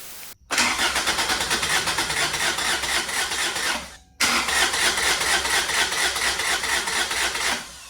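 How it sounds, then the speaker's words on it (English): Toyota Celica TRD engine cranking over with the injectors unplugged to build oil pressure, two loud sustained bursts of rhythmic starter churning split by a brief pause, with no catch. "Injectors are unplugged, so I can get it cranking and get some oil pressure."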